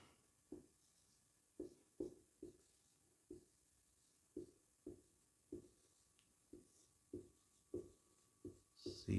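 Chalk tapping and scraping on a classroom board during a Class 12 economics lesson, a steady series of short, sharp strokes about every half second, close and fairly quiet, with no talk over them.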